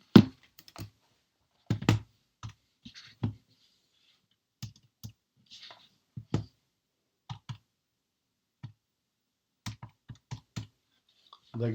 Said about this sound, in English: I'm going to type into the calculator